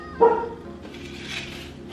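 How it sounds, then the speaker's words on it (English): A dog gives a single sharp bark up close in a home kitchen during cooking, followed by low whimpering and faint background noise. "My dog don't stop barking at whatever he trying to bark at."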